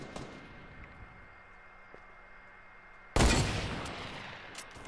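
Enemy players in a squad battle video game open fire: after a quiet stretch of faint background hum, a sudden loud, close burst of rapid gunfire erupts and keeps rattling to the end.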